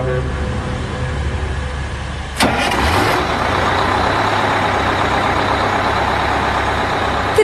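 A trailer truck rumbles loudly and steadily, then a sharp hiss of air release cuts in and the engine noise grows fuller and rougher as the vehicle pulls away, continuous and close throughout.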